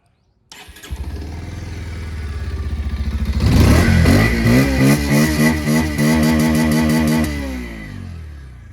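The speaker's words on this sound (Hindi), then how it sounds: "अब इस बाइक की प्योर आवाज़ को सुना देता हूँ मैं" A Bajaj Pulsar 150 motorcycle engine starts up and idles, then revs repeatedly in sharp rising bursts before settling back, loud and close.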